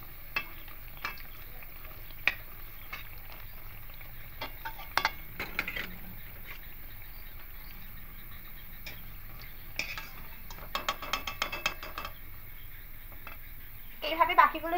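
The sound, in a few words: malpua pancakes frying in hot oil in a wok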